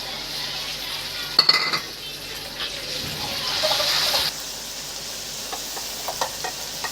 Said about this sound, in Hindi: टमाटर फ्राई हो चुके हैं